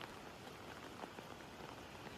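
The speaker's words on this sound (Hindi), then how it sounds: "बारिश हो रही है यार" Steady monsoon rain falls in the Himachal hills, a dense, even hiss of drops on surfaces that continues unbroken throughout at moderate volume.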